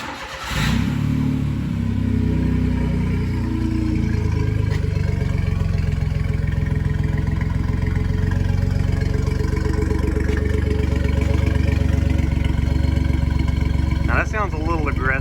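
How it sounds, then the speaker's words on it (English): A turbo Suzuki Carry kei truck's 660 cc engine, fitted with a new small exhaust, cranks and catches, then idles loudly with a raspy, throaty exhaust rumble that stays steady close by. "First start with a new little exhaust on it."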